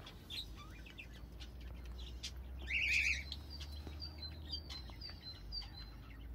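Cockatiel and budgerigar calls ring out as scattered high chirps and tweets, with a brief louder burst of chatter midway, over steady low background hum at moderate distance.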